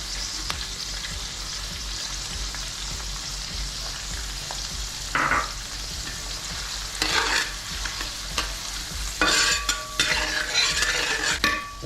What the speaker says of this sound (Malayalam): ശേഷം നമ്മളൊന്ന് ഇളക്കി കൊടുക്കുക.